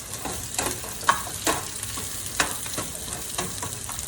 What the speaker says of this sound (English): we're just gonna kind of let that all saute in the pan